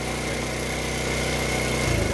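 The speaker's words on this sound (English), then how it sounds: "As you can hear, this thing is running. It's not running great." A TaoTao 50cc Chinese scooter engine runs unevenly, a close, continuous buzzing putter with a slight pulsing roughness that swells a little louder at the end.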